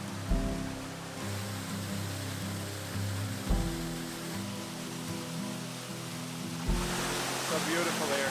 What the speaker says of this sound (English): Really nice waterfall all the way down.